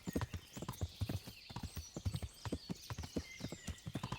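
A horse gallops fast under its rider in the medieval game Kingdom Come: Deliverance, its hooves drumming close and steady in a quick, rolling rhythm.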